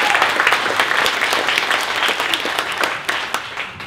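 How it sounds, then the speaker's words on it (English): Sustained, thick applause from a premiere screening audience in Cairns, with many hands clapping at an even level throughout and a few sharper claps standing out near the end. "one more time, please give yourselves a clap"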